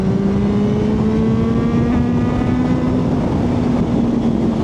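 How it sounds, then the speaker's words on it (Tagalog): A Kawasaki ZH2 motorcycle engine revs as the throttle opens to overtake, a loud, steady drone whose pitch climbs gradually under heavy wind rush, with no talking. "gusto natin umovertake dito pwede natin pihitin yung throttle and overtake tayo"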